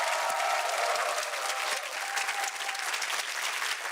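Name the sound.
audience applause after an architect's lecture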